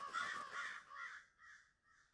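Crows in a video game caw several times, a few harsh, evenly spaced calls that grow fainter and more spread out, clear against a quiet background.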